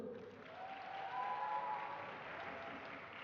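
Steady applause from a large audience at an Islamic religious gathering, a dense continuous clapping that swells slightly midway and holds without voices.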